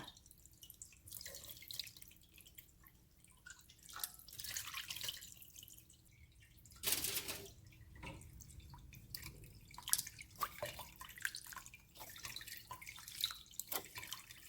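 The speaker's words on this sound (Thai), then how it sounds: "เดี๋ยวเขาจะกรองเอาแต่น้ำเนาะค่ะ มาเบิงตอนกรองแล้วค่ะ" Boiled fermented fish sauce (pla ra) being strained, with liquid dripping and trickling in irregular patters and a brief louder splash partway through, close by with no talking.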